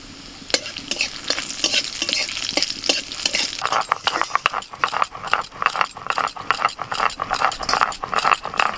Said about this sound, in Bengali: এবার যে তেলটা কড়াই আছে ওই তেলের মধ্যে 2টো শুকনো লঙ্কা আর একটা তেজপাতা দিয়ে দিলাম ফোড়নে, আর দিচ্ছি একটুখানি গোটা জিরে।